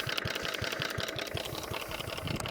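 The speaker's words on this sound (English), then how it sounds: "If he can hear that engine ticking over like that" A Ransomes Marquis F12 cylinder lawnmower engine ticks over at idle, a quiet, steady, rapid rhythmic chatter heard alone with no voices over it.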